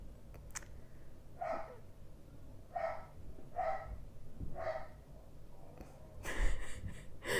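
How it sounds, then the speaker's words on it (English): A dog barks several times at a steady pace in the background, faint and distant, with no talking. "my dog is barking in the background"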